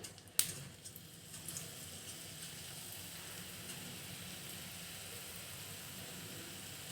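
Okra fritters deep-frying in hot oil in a pan, a steady, fairly quiet sizzle that stays even throughout, with a brief clink near the start and no voices.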